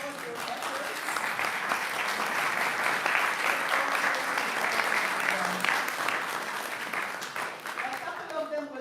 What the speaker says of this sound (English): we can applaud your efforts